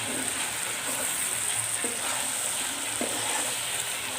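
Water poured into a pan of frying Assamese-style duck curry sets off a steady, close sizzle and hiss, with a couple of faint knocks and no talking.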